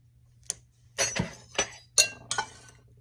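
A butter knife clinks and scrapes against a bowl while stirring a microwave peanut brittle mix of sugar, peanuts and corn syrup, giving several close, sharp ticks and short scraping bursts in an otherwise quiet room.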